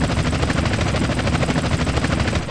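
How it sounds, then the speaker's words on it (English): A helicopter from Grand Theft Auto: San Andreas drones with loud, continuous rotor chop, the rapid thudding beat filling the whole clip with no talk over it. "Got a chopper on our tail."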